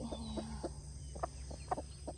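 Chickens cluck nearby in short, scattered bursts over a steady low background hum.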